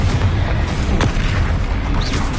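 Bombarda and Confringo spell blasts in Hogwarts Legacy on PS5, dense booming explosive impacts layered loudly one over another with no gap.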